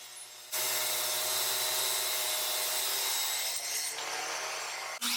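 A table saw rips wood pieces to width, a loud, steady whirring cut that starts abruptly after a quiet motor hum and carries on evenly for several seconds before a brief dip near the end.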